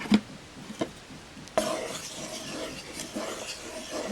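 A spoon stirs condensed milk and melted butter in a pan, with a few clinks against the metal followed by soft, continuous scraping and faint sizzling, close and fairly quiet.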